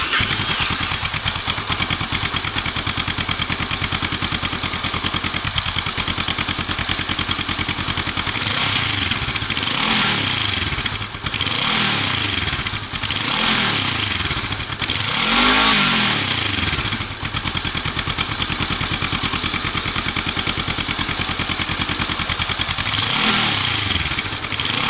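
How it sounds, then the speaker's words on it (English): A 2023 Honda CL500 motorcycle on its stock exhaust, warmed up, idles steadily and is given a series of short quarter-throttle revs that rise and fall repeatedly, loud and close with no talking. "first let's test and see what the stock exhaust sounds like"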